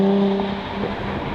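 A supercharged V6 in a 2015 Jaguar F-Type with a manual gearbox gives a brief, steady engine drone. A low, humming tone fades into a rougher rumble.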